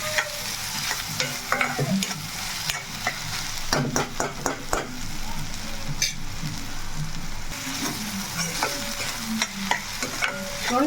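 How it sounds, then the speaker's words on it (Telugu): Chopped onion, green chilli and tomato frying in a pan for a Rayalaseema-style chicken curry, with a continuous close sizzle broken by repeated scraping stirs of a spoon; no one speaks. "ఉల్లిపాయ పచ్చిమిర్చి టమాటా బాగా వేగింది చూడండి"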